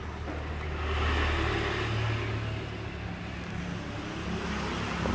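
A 2009 Neo Fi engine runs steadily at idle nearby, a continuous low hum and rumble with a slight rise in level partway through and at the end, with no talk.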